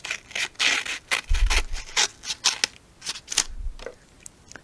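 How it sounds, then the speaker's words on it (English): Scissors snip through a page of a paper advertisement book, giving a quick series of close, crisp cutting and rustling strokes with brief pauses between them and a couple of soft thuds. "Just cut a page out of this advertisement book and test the scissors out."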